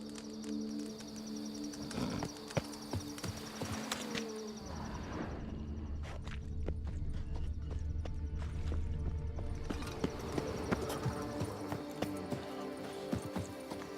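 Hooves clip-clop steadily as a horse runs in Witcher 3: Blood and Wine, with a brief whinny and scattered ambient sounds around it, continuing for most of the stretch.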